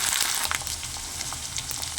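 Ginger garlic paste frying in hot oil in a pan for a village-style rohu fish curry with cauliflower and potato, giving a steady close hiss with small crackles and occasional stirring scrapes, no talking.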